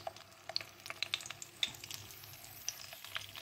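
Stuffed brinjals sautéing in oil on a low flame make a soft, quiet sizzle with scattered crackles and small pops as they are stirred, close and gentle.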